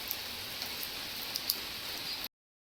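Steady rain falls evenly for about two seconds with scattered drips ticking on a surface, then cuts off abruptly.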